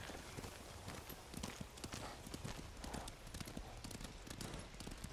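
In the Ghost of Tsushima video game, horse hooves clip-clop at a steady, quick rhythm on the trail, soft and continuous beneath quiet ambience.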